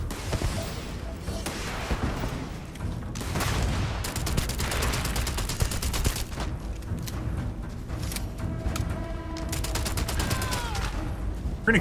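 Rapid-firing gun in Starfield lets off dense, sustained bursts of automatic fire, with loud rattling volleys and brief pauses between them across the whole stretch, and no talking.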